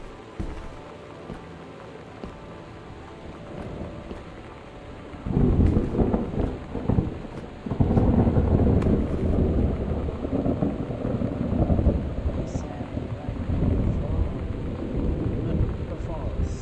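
Rain and thunderstorm in the exploration game Gone Home, a soft rain hiss that swells into a long, loud rolling thunder rumble with continuous downpour beneath, heard alone and close.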